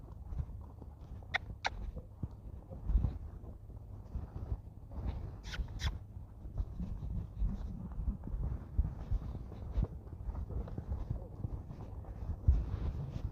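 Hooves of a horse loping on a lunge line during a groundwork clinic, a soft rhythmic drumming on the ground, fairly steady and moderately close, with faint ambient noise and occasional thuds.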